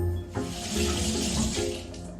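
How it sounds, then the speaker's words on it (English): A kitchen tap runs steadily as hands are washed beneath it. The water rushes close and continuous, with a brief dip in the flow early on. "let me wash my hands"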